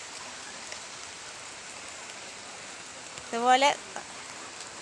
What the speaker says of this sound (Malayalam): പൈപ്പിലെ ചെടിയെല്ലാം വെച്ച് കഴിയുമ്പോൾ മഴ പെയ്യാൻ തുടങ്ങി.